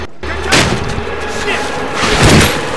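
A grenade explosion in Medal of Honor Warfighter, loud booming blasts and gunfire in a cave firefight, heavy and close, with shouting voices over the chaos.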